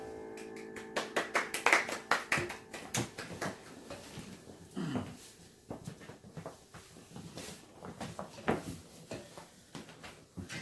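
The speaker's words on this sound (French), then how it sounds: "Vous pouvez vous applaudir les enfants." Children clap their hands during a Sunday church service, in uneven bursts of sharp claps with short pauses and faint tones in between.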